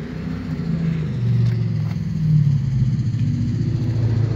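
A 1966 Ford Mustang with a new exhaust runs close by, its engine giving a loud, throaty low rumble that swells and eases in gentle revs over a few seconds.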